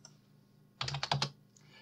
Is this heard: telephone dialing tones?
no